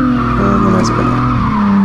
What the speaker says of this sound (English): And then I spin out.